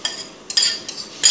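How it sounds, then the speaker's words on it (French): Coarsely chopped white onions dropped into a cooking pot, three or four quick bright clinks and scrapes of utensil on metal, close and short, with no voices. "On va les mettre dans une marmite."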